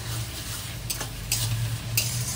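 Sliced onions frying in a pan with a pinch of salt are stirred with a spatula: a steady sizzle sits under a few sharp scrapes against the metal, close and fairly loud, and no one speaks.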